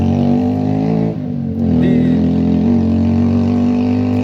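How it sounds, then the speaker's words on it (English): A motorcycle passing on a street, a loud steady engine drone with a brief dip and then a rising rev, close by and dominating. "You can hear a lot of noisy from the street, you know, like this motorcycle, stupid motorcycle"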